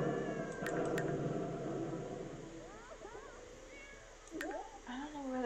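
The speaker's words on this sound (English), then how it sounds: "Cat sounds very distressed to find out what's wrong." Distressed cat meowing in a video game, a series of rising, wavering cries of moderate loudness heard over steady game background sound.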